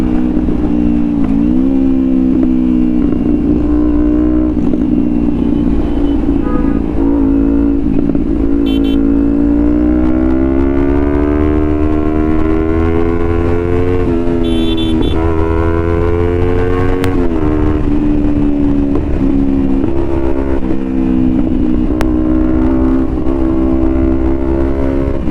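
A Jawa motorcycle engine drones loud and close through a race, its pitch rising and falling steadily as the rider accelerates and eases off, with no talk over it.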